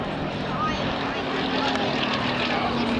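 A Fairey Swordfish biplane, a type whose prototype first flew in 1933, passes overhead at the Blackpool Air Show. Its propeller engine gives a steady, even drone from some distance that holds at the same loudness throughout.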